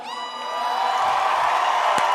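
A live concert crowd at the Forum cheers loudly for the band, a sustained roar of whoops and shouts that swells and holds steady.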